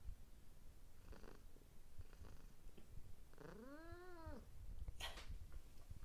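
House cat sitting up at a table beside a chicken meal, purring softly and close, with one drawn-out meow-like cry in the middle and faint rustles around it.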